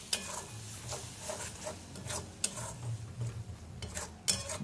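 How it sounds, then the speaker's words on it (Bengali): Spice masala with potatoes being stirred and fried in a pan, soft irregular scraping and clinking of a spatula over a low, faint sizzle. "তারপরে আবারও মশলাটাকে বেশ করে কষিয়ে নিতে হবে"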